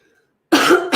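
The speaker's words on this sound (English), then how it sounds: "I do still have a little bit of a residual cough" One short, sharp cough from a person with a lingering residual cough. It comes suddenly after near-silence, close and loud, in a single burst with a brief second push at the end.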